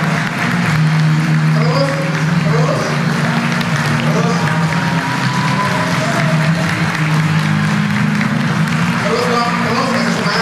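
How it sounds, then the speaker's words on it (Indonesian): An enthusiastic crowd at a young entrepreneurs' seminar talk show in Indonesia applauds loudly and continuously, with shouting and cheering voices layered over the clapping throughout. "kasih tepuk tangan yang semangat"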